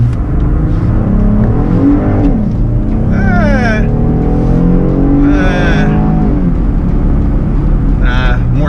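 A 2020 Jeep Gladiator Sport roars loudly under hard acceleration on a wet road, its engine note rising and falling continuously while someone talks over it.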